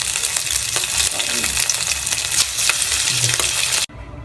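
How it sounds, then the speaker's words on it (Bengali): Eggs frying in white oil and butter in a wok make a loud, continuous crackling sizzle with sharp pops, close up, until it cuts off abruptly near the end. "ডিম ভাজার জন্য কড়াইতে দিয়ে দিচ্ছি সাদা তেল"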